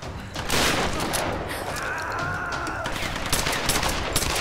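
Pistol gunfire in the Tomb Raider video game, a dense burst of shots and booms running loud and continuous through the moment, with game effects layered underneath.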